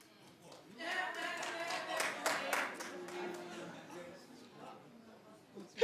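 A short run of hand claps, fairly close and moderately loud, mixed in with a voice talking in an indoor room.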